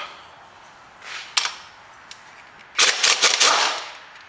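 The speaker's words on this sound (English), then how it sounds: "That didn't turn, it just banged the bolt off, which is what you want." An air impact gun bangs a bolt off a Peugeot 308 during timing belt work in a garage, with a short burst followed by a longer rattling hammering run, close and loud.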